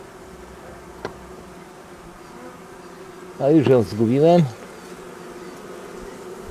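Steady buzzing of honeybees on a comb hums throughout, with a voice speaking briefly in the middle over it.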